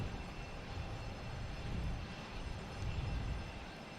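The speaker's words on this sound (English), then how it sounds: "Here's our next takeoff. Heading to Athens." An airliner takes off at Logan Airport in Boston, a broad, distant, steady roar of jet engines heard alone for a few seconds.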